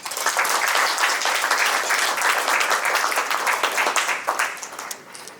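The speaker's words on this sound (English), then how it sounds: "I would very humbly request you all to give a round of applause to our president" An audience at an awards gala dinner claps for the president, a dense, loud burst of many hands that holds steady for several seconds before tapering off.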